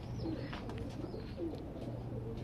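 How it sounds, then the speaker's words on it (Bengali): Breeding pigeons coo softly in their loft, a few low rolling calls over a faint steady background hum, with no talking. "খুব ভালো কবুতর মাশাআল্লাহ"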